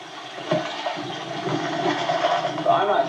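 Water rushing through a 1.25 inch hose from a pump lifting it about eight feet to a screen at a Kansas kimberlite garnet dig, a steady gushing hiss that swells louder midway and stays continuous.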